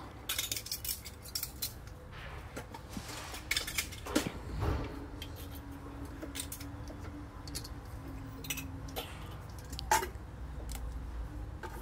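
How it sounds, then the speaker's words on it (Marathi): Washed kitchen dishes and utensils are set down and stacked to one side, giving scattered light clinks and clatters over a steady low room hum, with no talk. "रात्रीची जी धुतलेली भांडी आहे ती रचून घेते साईडला"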